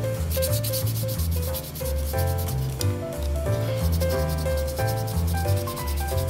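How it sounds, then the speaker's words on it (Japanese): Putty is sanded on a 1/12 Tamiya Porsche 934 Jagermeister plastic model kit with quick, close, rhythmic back-and-forth scratchy strokes repeating throughout. "地道にこうやってカシャカシャカシャカシャやって取っていってあげましょう"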